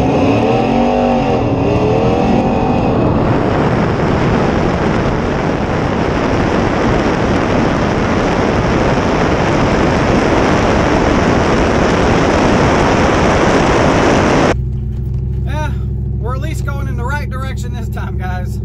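A nitrous-fed, cammed Ram 1500 pickup with a 5.7 Hemi makes a quarter-mile drag strip run, its engine roaring loud and continuous with heavy wind rush for about fifteen seconds before cutting to a quieter cabin with a voice.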